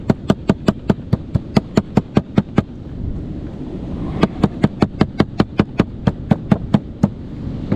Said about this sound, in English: Then I take our hammer, and this piece that is left, I just beat that to pieces.